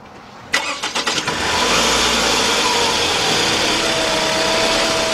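A Toyota Camry engine cranks with several quick starter bursts, catches and settles into a steady idle, loud and close with no talking.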